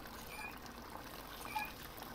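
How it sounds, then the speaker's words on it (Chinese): Water runs from a tap in the Rick and Morty VR game, heard as a faint, steady trickle and pour with soft splashy detail. "冷水、热水，哦，有水啊！"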